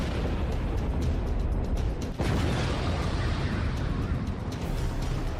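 Dense, continuous rumbling with repeated dull booms and one sharper blast near the middle, loud and distant-sounding, with no clear pauses.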